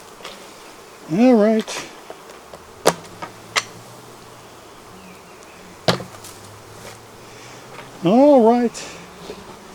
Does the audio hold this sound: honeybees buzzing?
yes